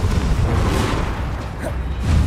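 Confringo blasting spell exploding in Hogwarts Legacy, a heavy booming burst with rumbling low end that swells again toward the end, loud and close with no talk over it.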